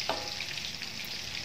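Sliced bananas frying in oil in a pan give a soft, steady sizzle with faint crackles, quiet and close, and nobody is talking.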